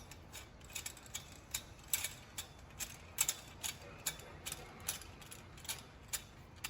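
Mounting fittings on a Celeste glass drop chandelier are tightened by hand, making a steady run of small metallic ratcheting clicks and ticks. The clicks are close but faint and come alone without talk.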